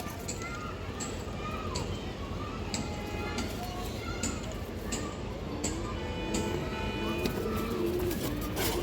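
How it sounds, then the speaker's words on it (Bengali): A large female Sapchila pigeon and others cooing softly in the background, repeated low calls under steady ambient noise and someone talking. "বড় সাইজের একটা সাপচিলা মাদি কবুতর"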